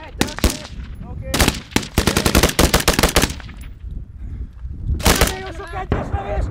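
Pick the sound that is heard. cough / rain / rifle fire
rifle fire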